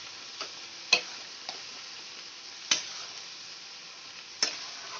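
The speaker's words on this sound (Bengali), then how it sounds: "লো ফ্লেমে এবার কষাতে থাকবো মিক্স করে নেব" Methi chicken with yogurt is stirred over a low flame, a faint low sizzle with a few sharp metallic taps of a spoon against the pan at irregular intervals.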